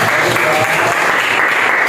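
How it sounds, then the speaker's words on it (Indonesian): Loud, dense applause from a classroom group during a teaching practice lesson, sustained and even throughout with no pause. "cukup tepuk tangan buat kelompok kita"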